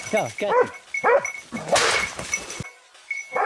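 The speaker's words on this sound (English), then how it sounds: "the rapid barking signaled that the target had been surrounded." Several hunting dogs bark in quick, excited bursts with whiny, rising yelps during a wild boar hunt in Turkey, close by, a few overlapping and followed by a brief rustle and a short pause.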